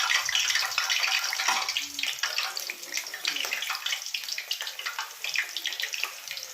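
Spinach and urad dal pakodi fritters sizzle and crackle steadily in hot oil, a dense continuous frying hiss close by with faint background sounds.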